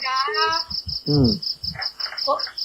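Crickets chirping at night, a steady high-pitched pulsing trill running throughout while someone speaks over it.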